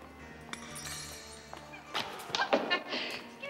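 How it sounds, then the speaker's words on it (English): A dropped drinking glass breaks at a party in a large house, giving a burst of sharp crashes and tinkling clinks after a quiet, faint background, the shattering fairly soft and brief. "I dropped my glass."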